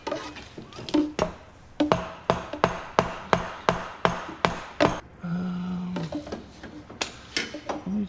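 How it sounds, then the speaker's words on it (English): Light hammer taps on the cylinder head of a 2003 Polaris 700 ATV engine ring out as a steady run of about a dozen sharp metallic knocks, close by, followed by a brief pause and a few more taps. "we're gonna give this a couple light taps and see if we can't take the head off here"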